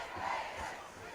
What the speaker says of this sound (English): the mighty Raiders cheer is going out